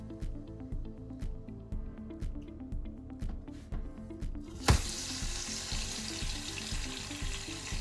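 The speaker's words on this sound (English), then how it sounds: "carefully put your roast in there to start searing the sides" A beef roast placed into hot olive oil in a pressure cooker, low rhythmic bubbling gives way to a sudden loud burst of sizzling that continues as a bright steady hiss, no voices.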